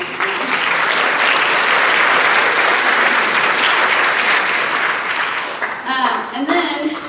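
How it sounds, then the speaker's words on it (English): A school orchestra concert audience claps in sustained, loud applause for several seconds, thinning toward the end as a few scattered claps and some voices come through. "a clapping noise."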